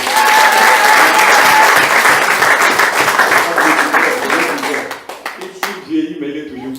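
A church congregation claps and applauds in a full, loud burst that fades after about five seconds, and a voice follows over the last scattered claps.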